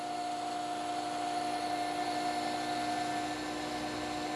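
A lathe boring tool chatters while opening a bore from 1/2 to 3/4 inch in one large cut with long stick-out, giving a steady loud tonal whine and machine hum throughout, with no pauses.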